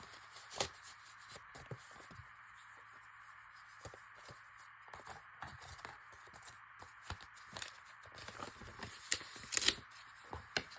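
Christmas cards being handled and paired up, soft papery rustles and scattered crisp flicks and taps close by over a faint steady background hum.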